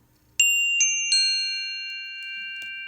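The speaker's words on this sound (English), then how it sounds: "I will ring this bell" A small classroom bell rings three quick times in close succession, each bright ding leaving a long, clear ringing tail that slowly fades.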